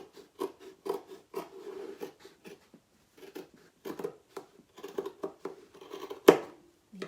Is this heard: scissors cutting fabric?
yes